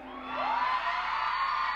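A crowd of girls at a gay rock band's concert screams together in a high, sustained shriek that swells up and holds, loud and somewhat distant, with no distinct talking over it.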